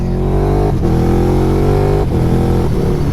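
A car accelerates while driving, giving a loud, steady engine drone close by that dips briefly at gear changes, with no talking.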